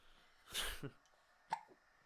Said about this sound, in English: You got hiccups a lot today, haven't you?